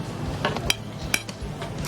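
Knife and fork cut through a juicy burger with bacon bits at a burger restaurant, giving soft scraping and two sharp metallic clinks against the plate over a low dining-room murmur.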